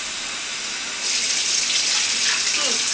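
Water runs from a tap into a kitchen sink during dishwashing, a steady hiss that swells louder after about a second and keeps flowing close by, with brief faint sounds from the sink.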